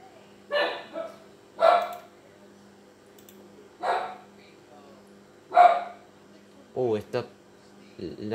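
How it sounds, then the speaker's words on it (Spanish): In The Sims 4, a game dog barks repeatedly, with sharp barks spaced about a second apart, followed by a few short whiny yips near the end, loud and clear over a faint steady hum. "Está ladrando un perro."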